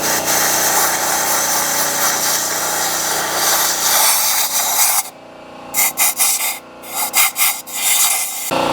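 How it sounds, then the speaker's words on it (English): Compressed-air blowgun clearing walnut-blasting debris from the intake ports of a BMW N54 engine: a loud continuous rushing hiss, then a series of short, sharp bursts as the trigger is pulsed on and off. "So we're going to do it with the blowgun."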